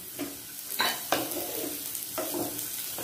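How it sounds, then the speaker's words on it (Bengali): Cashews and raisins frying with carrots in a pan for sabudana polao, with a steady close sizzle broken by several scraping stir strokes of a spoon at uneven intervals; no talking. "বাদাম আর কিশমিশ দিয়ে"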